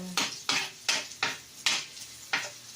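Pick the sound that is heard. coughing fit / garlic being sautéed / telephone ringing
garlic being sautéed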